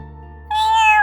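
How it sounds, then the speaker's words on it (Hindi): Cat meow used as a story sound effect, heard from outside a door: a single loud, rising tonal meow that starts halfway through and holds to the end, with no talk. "शायद बिल्ली होगी।"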